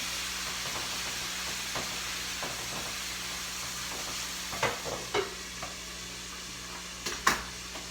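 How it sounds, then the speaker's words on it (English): Pasta with broccoli rabe sizzles softly in a pan with a steady hiss, broken near the end by a few light scraping stirs. "Keep everything stirring."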